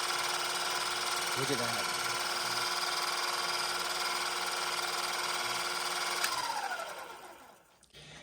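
An Eastman Lightning electric cloth cutting machine runs with a steady, loud motor whine and hum from the start. The motor is geared down from 3,600 RPM. It stops near the end and spins down to quiet. A brief voice speaks over the running.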